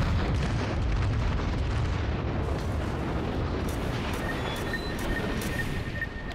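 The main guns of the battleship Amagi fire in World of Warships, a heavy, sustained booming roar that rumbles on loud and continuous, with faint tonal pings toward the end.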